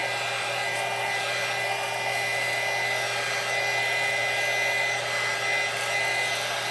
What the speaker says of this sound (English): Hit it with the air gun.